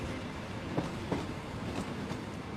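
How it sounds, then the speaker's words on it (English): A train runs steadily along the rails, a continuous dense rumble with faint rhythmic clicks from the wheels and no talking. "I know you know it's a train."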